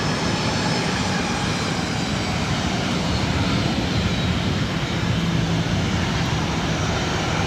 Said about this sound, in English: Now lining up for takeoff, Delta Airlines 1696. Headed out to Las Vegas on the 737-800.